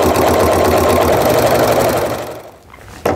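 Sewing machine stitching around the perimeter of a small quilted Christmas tree mug rug, a steady fast motor whir throughout that eases off near the end before a brief restart.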